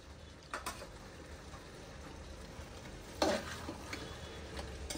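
Tomatoes and spring onion are stirred in a large pot, giving a low, steady sizzle with a few scraping knocks from the spoon, the loudest near the end. There is no talking.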